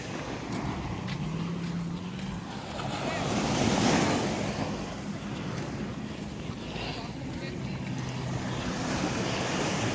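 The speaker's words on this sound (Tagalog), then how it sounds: "Ayun ang lakas ng alon" Strong ocean waves roll onto White Beach in a continuous heavy roar with wind buffeting the microphone, one surge swelling louder midway, and faint voices underneath.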